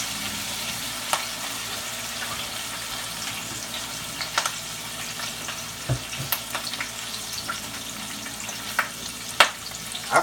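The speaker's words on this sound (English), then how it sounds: "I call this searing the pot roast." A pot roast sears in a hot pan with a steady, dense sizzle and crackle, broken now and then by sharper pops and a few light clinks of utensils.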